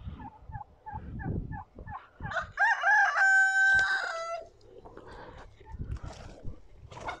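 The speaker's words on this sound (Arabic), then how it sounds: "دي الطيور هنا اهي" A rooster crows loudly amid clucking chickens and other fowl on a farm in Farafra, Egypt, with people talking nearby in the background.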